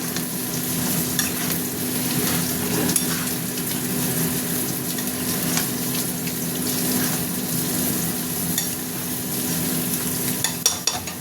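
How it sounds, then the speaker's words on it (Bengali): Ridge gourd pieces go into a pan of frying spice masala for a fish curry and are stirred, giving a steady, close sizzle with scraping stir sounds throughout and no talking. "এবার আমি ঝিঙেগুলো দেবো, ঝিঙেগুলো দিয়ে এবার নাড়বো।"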